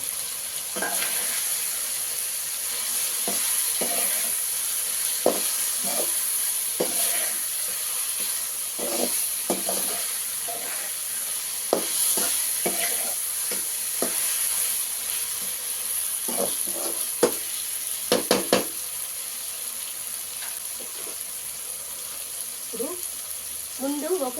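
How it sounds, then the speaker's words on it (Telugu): Pre-fried bitter gourd sizzles and hisses steadily in a pan of masala, with loud continuous frying and intermittent stirring scrapes and clinks close up. "ఇప్పుడు ఈ కాకరకాయ ముందుగానే నూనెలో వేయించి పెట్టుకున్నాం కదండి అది యాడ్ చేస్తున్నాం"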